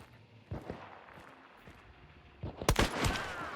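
In Hunt: Showdown, a rifle round is fired through wooden boards: one sharp crack early on, then a louder burst of close impacts and crashing echoes near the end over quiet ambience.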